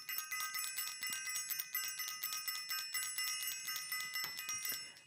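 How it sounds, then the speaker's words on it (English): A bell rings rapidly and repeatedly, each bright metallic strike running into the next in a fast, steady rhythm for several seconds, close and clear with no voices. "I want to ring the bell."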